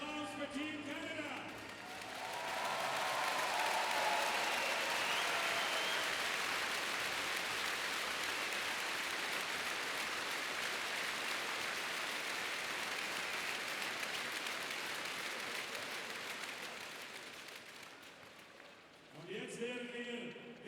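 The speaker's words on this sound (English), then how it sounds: "An applause for Team Canada." A hockey crowd at the Spengler Cup in Davos applauds Team Canada with a broad, sustained wash of clapping that swells after the start, holds steady, then fades, with an announcer's voice at the beginning and end.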